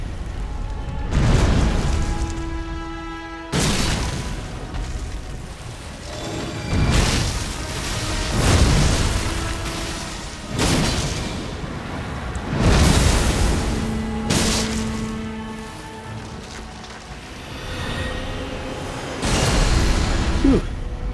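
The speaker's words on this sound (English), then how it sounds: "That's a second and third explosion." Heavy booming explosions in Elden Ring Shadow of the Erdtree, a series of about six to eight deep blasts spaced a few seconds apart, each with a rumbling tail, loud and close.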